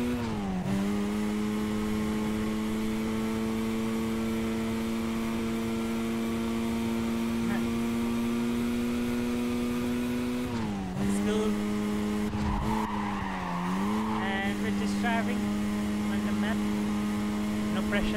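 A race car tears around a track in NFS Carbon, its engine holding a loud, steady high drone that dips briefly twice as the car shifts and slows, with bursts of tire squeal and scraping near the end.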